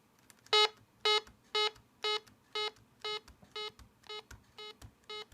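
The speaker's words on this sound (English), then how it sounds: "The volume buttons, because they make this really loud beep" A series of about ten short, evenly spaced electronic beeps from the volume buttons of a ThinkPad T43 laptop, fairly loud and sharp, each a single pitched tone.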